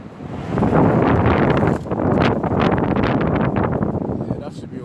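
Gusting wind buffets a microphone outdoors, a loud roaring rush that swells and dips unevenly for several seconds.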